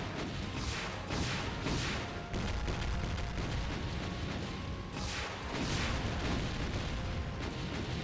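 Dense, loud gunfire and explosive blasts from the Doom video game with the Brutal mod, bursts of shots and booms overlapping continuously throughout.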